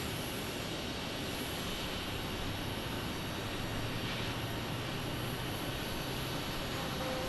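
A WestJet airliner taxiing at Phoenix Sky Harbor International Airport gives a steady, even jet engine roar with a faint high whine, unbroken for the whole stretch and heard from a distance.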